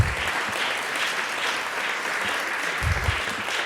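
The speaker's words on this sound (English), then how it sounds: "Round of applause" Diners at a law school public interest student and alumni dinner applaud some seventy attending alumni, a sustained dense clapping from a large room with a few low thumps mixed in.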